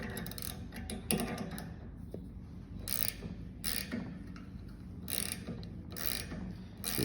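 A 5/8 wrench tightening bolts during assembly of a BendPak HD-9XW four-post lift, heard as repeated metallic ratcheting clicks and clanks in short bursts, fairly close, with no talk.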